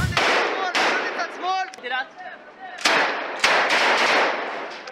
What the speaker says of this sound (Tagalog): Sunod-sunod tuloy ang dagundong ng mga pasabog.